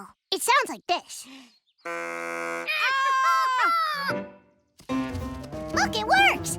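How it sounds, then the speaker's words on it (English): A homemade deer call blown at a campsite in a cartoon gives wavering, bleating tones among other sharp calls, sustained buzzy notes and squeals, with some spoken voices. "A deer call."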